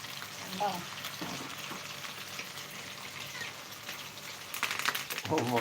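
Nethili anchovies fry in hot oil with a continuous crackling sizzle and bursts of sharper spattering near the end. People talk over it.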